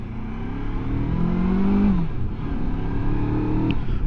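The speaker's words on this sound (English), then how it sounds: "It's got a nice little sound to it as I pull away there." A MUTT Stravaig 401 motorcycle pulling away, its engine note rising as it revs up, then easing and settling to a steady drone, fairly near with no talk.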